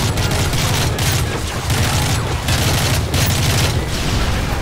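Dense gunfire rattles through a Call of Duty Modern Warfare 3 battle, with loud overlapping bursts and booms filling the whole stretch without pause.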